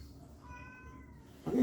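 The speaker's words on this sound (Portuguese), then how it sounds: "Alguém resolve aquele gato?" A cat gives a single short meow, fairly close and moderate in volume, followed by a brief thump or rustle nearby.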